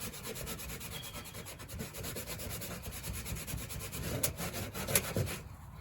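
Close, continuous rough rubbing as rust stains are scrubbed off the old aluminum siding of a 1993 mobile home, steady back-and-forth strokes with no talk.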